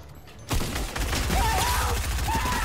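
Minigun fire in Fortnite, a loud continuous rapid rattle that starts abruptly and keeps going, with faint voices under it.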